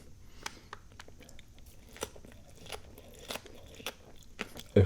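Crunchy Middle Eastern food such as kebabs, falafel or meat pies chewed close up, with quiet, irregular crisp bites and soft mastication sounds scattered across a low background.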